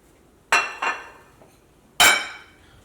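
Eggs cracked into a mixing bowl for a bread egg sandwich: two quick, sharp taps of shell against the rim, a pause, then a louder crack, close and bright with no talking.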